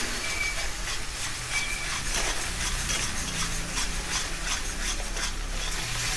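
Pointed gourd with turmeric and salt sautéing in a pan, a dense continuous hiss and sizzle with faint rhythmic stirring scrapes underneath, close and steady.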